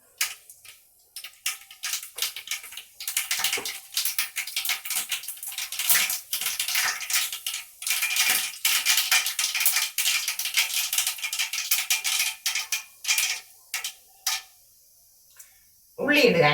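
Mustard seeds hit hot oil in a pan, setting off loud, irregular crackling and popping spatters that come in dense bursts and gaps, close by, with a voice briefly heard.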